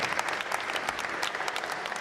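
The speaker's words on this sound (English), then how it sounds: "Shall we give him a better applause" Brief burst of crowd applause at an inauguration gathering, moderately loud with distinct individual claps.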